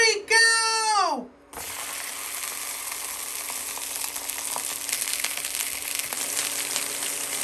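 Sausages frying in a pan, a steady crackling sizzle running for several seconds after a brief rising electronic sweep at the start.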